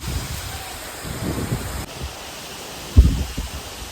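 Strong wind blows outdoors under dark clouds before rain, a steady rushing roar with low gusty buffeting and one brief knock near the end.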